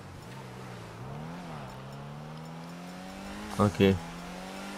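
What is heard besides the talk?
Ocelot Ardent car driving in video game GTA 5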